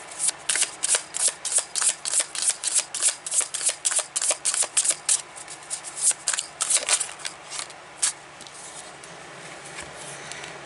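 A deck of tarot cards is shuffled by hand in close, rapid riffling bursts, a crisp papery flutter repeating steadily for about ten seconds with no talking.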